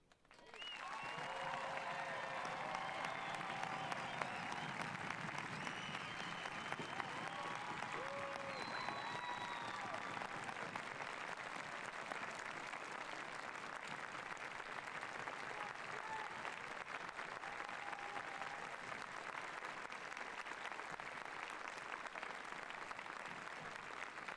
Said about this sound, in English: let's conclude this ceremony with a round of applause for all of our graduates